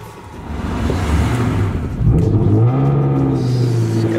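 A Nissan GT-R engine revs hard, its loud, rising roar swelling and then holding at a steady, throaty pitch, close by and with no talk over it.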